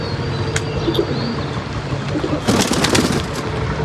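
Pigeons coo softly in the background over steady rain, with a burst of wing flapping or rustling partway through.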